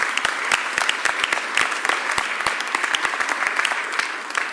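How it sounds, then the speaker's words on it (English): An audience at a Philadelphia mayoral press event applauds for city council members, a steady, close round of clapping with sharp individual claps standing out throughout. "So please give my members a real big round of applause."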